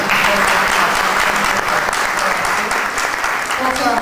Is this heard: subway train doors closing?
no